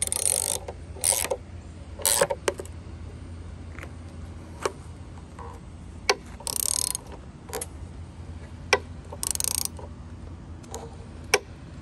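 Metal bolts being tightened on a timber post and beam carport, heard as scattered short clicks and ratcheting bursts at moderate distance over a steady low background hum, with no talking.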